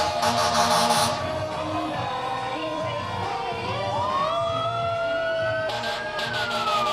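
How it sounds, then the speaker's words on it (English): Engine 2, a fire truck in a Christmas parade of lights, wails its siren as it passes, the tone sweeping up and holding loud and close, with short bursts of air horn at the start and end. "I know you're surprised to see that there's yet another fire truck passing by"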